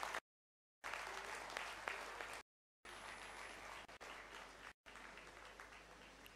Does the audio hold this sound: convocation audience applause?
yes